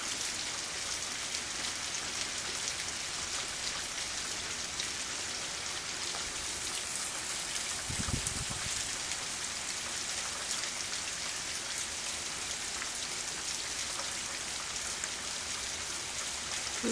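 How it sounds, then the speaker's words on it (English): Steady rain falling on trees, a dense, even hiss of drops continuing throughout with one brief low thump midway and no talking. "The rain almost stopped."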